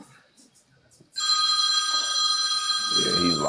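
A classic rotary telephone bell rings out suddenly and loudly after a quiet moment of faint talk, a continuous bright metallic trill that carries on steadily to the end.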